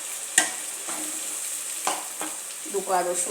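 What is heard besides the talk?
onions frying in oil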